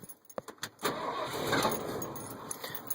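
A 1977 Ford F150 pickup with a modified 400 engine and an automatic transmission starts up. A few sharp clicks come first, then the engine turns over and catches into a rough, fairly quiet idle that stays steady.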